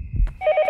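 A telephone rings in the horror game Yomawari: Night Alone, its rapid repeating bell starting partway through after a soft low thump and ringing loud and close to the end.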